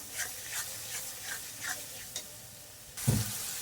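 Bengali masala spices being fried and stirred in a pan for a Lotte fish and potato dish, with faint repeated scraping strokes over a low sizzle and a sharper knock near the end.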